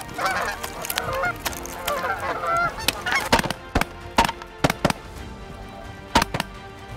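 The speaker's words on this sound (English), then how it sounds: "I almost got hit by a goose." Canada geese honk in a busy overlapping chorus during a waterfowl hunt, and a series of sharp, loud shotgun blasts cuts through the calls.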